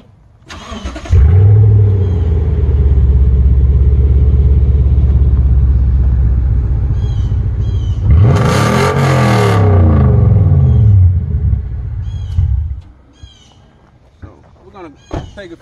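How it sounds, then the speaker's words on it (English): A lifted Toyota Tundra pickup on a 7-inch lift cranks and fires up, then settles into a loud, steady idle rumble close by. A brief louder rev sweeps up midway before the engine shuts off near the end. "I'm gonna go ahead and start it up and let y'all hear how it sounds."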